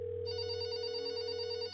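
A telephone ringing somewhere in the video game There Is No Game, one steady electronic ring that holds a constant pitch, quiet and alone with no speech.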